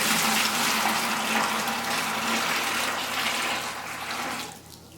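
Steaming hot water poured into a bucket, a steady splashing rush that fills the sound for several seconds, then thins and trails off near the end.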